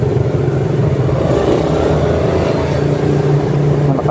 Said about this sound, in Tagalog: Grabe naman traffic ngayon